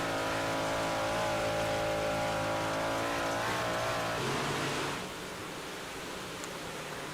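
Onboard view from the number 31 Hammer Down Racing car at Charlotte: a loud, steady engine drone with shifting pitch under wind noise, easing off and going quieter near the end.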